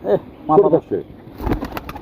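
Pigeons coo in short, throaty bursts close by, with a brief rustle of movement after a pause.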